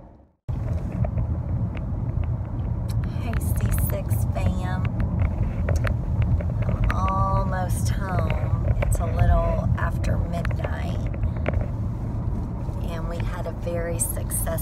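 Steady low road rumble and engine drone inside a moving car, with someone talking over it throughout while she drives.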